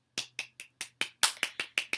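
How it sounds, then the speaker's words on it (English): Ten crisp hand claps in a steady, fairly quick rhythm, close and distinct against near silence with a faint low hum. "I'm clapping for Spirit."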